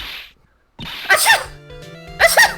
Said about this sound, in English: What a wonderful sneeze!